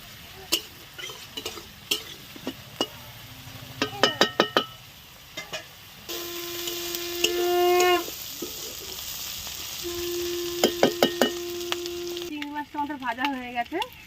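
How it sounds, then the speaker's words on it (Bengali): Onion stalks fry in a pan with fish and are stirred, giving a steady sizzle broken by frequent clinks and scrapes of a utensil against the pan, with short bursts of busy stirring. "লাল লাল করে ভেজে নেবো।"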